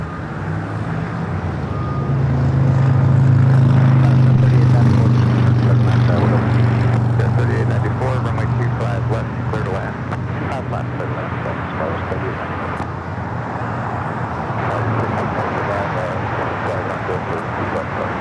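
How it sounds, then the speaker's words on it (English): American Airlines airliner taking off at LAX: a loud, low engine roar builds and swells early, then settles into a sustained rumbling rush, with people talking over it throughout. "This is American Airlines flight 2321."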